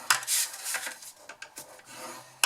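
Scoring tool rasping along card stock during a craft project, a series of short dry scraping strokes of uneven length, close and fairly quiet.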